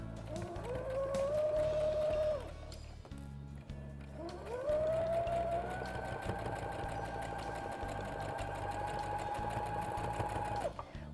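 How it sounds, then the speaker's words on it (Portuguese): A sewing machine runs a straight seam through fabric while a toilet paper holder is being made. Two close, steady motor whirs are heard, a shorter run first, then a brief pause and a longer continuous run. "Agora eu passo uma costura reta, então."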